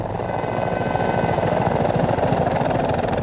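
Mi-24 Hind attack helicopter in flight, a loud, steady rotor chop with a constant turbine whine, heard alone and close throughout.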